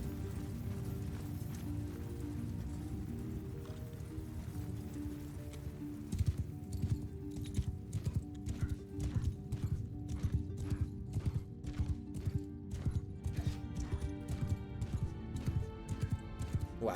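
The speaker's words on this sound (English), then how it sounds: "Horses!" Horses gallop in a Mount & Blade 2: Bannerlord battle, with dense, rhythmic clip-clop hoofbeats that sharpen and grow louder partway through over a low rumbling battlefield din.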